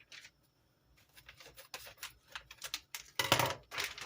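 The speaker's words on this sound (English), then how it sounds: "So let me open this bag. I have my scissors right over here" Scissors snip and rustle through a plastic food bag up close, starting as light scraping and building into louder crinkly cuts near the end, with no voices.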